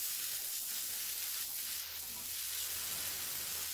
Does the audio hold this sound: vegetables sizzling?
yes